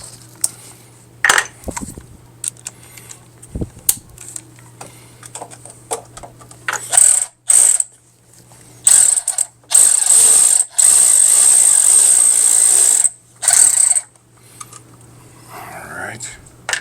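DeWalt power ratchet loosening bolts on a Chevy Cruze during thermostat work, with several short bursts and a longer sustained whirring run near the microphone, separated by quiet pauses and light clinking.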